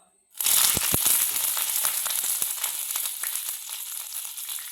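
Moringa leaves and urad dal dropped into hot oil for a chutney, a sudden loud crackling sizzle with sharp pops at the start, then a dense steady frying hiss.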